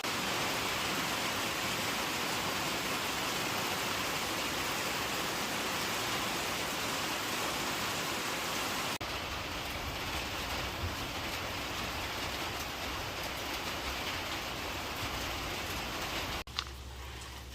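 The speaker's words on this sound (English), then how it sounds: "In the middle of a rainstorm" Heavy rain pours during a rainstorm in a steady, dense hiss that runs throughout, loud and continuous with no talking, briefly dipping and shifting tone partway through.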